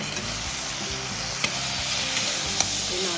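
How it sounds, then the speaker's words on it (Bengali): Dried loitta fish curry fries in a pan with brinjal and beans, giving a steady close sizzle and hiss. A few light spoon scrapes sound as the mixture is stirred. "নাড়াচাড়া করে"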